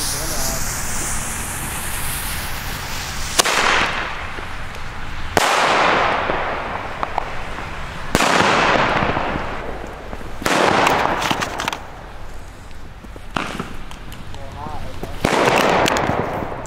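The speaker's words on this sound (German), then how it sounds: "die normalen Flashbang, die hat halt nur einen Schuss, einen Blitzknall" Weco Flash Bang single-shot firecrackers going off outdoors: five loud, sharp bangs spaced a few seconds apart, each with a bright crack trailing into a hissing decay over a steady background.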